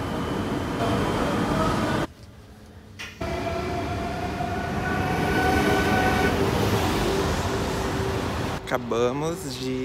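A train near Paris rumbles steadily on the rails with a continuous mechanical hum. The noise drops briefly in the middle, and faint voices can be heard under it.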